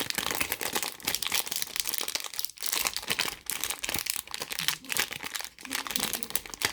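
Plastic packaging of a MoYu AoSu GTS2M speedcube being opened: continuous close crinkling and crackling with sharp rustles and brief crunches, and no talking.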